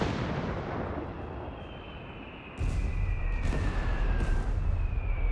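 Artillery barrage in the strategy game Company of Heroes 3: a steady low rumble that swells abruptly into heavier, continuous booming and roaring blasts midway through, with faint whistling streaks overhead.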